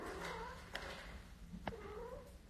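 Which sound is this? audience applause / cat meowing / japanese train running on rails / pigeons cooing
cat meowing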